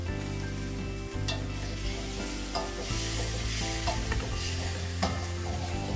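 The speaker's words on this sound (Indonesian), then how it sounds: "Sembari kita menumis bumbu-bumbu tadi" Spices for rawon, an East Javanese beef soup, sizzle steadily in a hot pan while a spatula stirs and scrapes now and then, with no one speaking.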